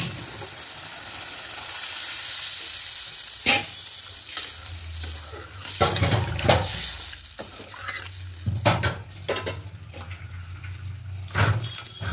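A pan of spiced potato curry sizzles as water is poured in, and the frying dies down to a softer bubbling, broken by several sharp scraping stirs against the pan.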